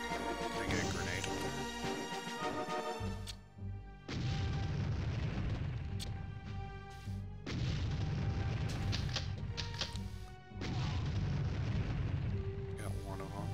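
A grenade explosion in the video game Army Men Sarge's Heroes lands among loud, booming game audio and background music, with heavy low rumbles recurring across the stretch.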